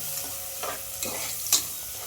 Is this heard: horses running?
no